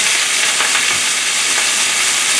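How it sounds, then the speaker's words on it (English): Sherry, Shaoxing wine, sake or mirin cooking wine hitting a hot wok of vegetables in a stir-fry with crispy rice, giving a loud, steady, close sizzle and hiss with stirring, unbroken throughout. "Add some sherry cooking wine, or Shaoxing wine, or sake,"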